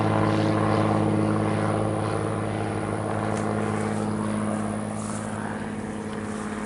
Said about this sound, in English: airplanes going over for air show